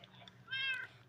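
A kitten gives a single short, high meow, faint and close, over a quiet low background hum.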